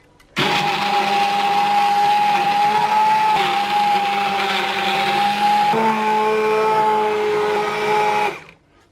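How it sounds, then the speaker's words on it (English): A handheld stick blender whirs steadily through vegetable soup, a loud continuous motor hum with slight shifts in pitch as it works, starting abruptly and cutting off near the end. "I've got my stick blender, and I'm going to blend it until I've got a smooth and creamy soup"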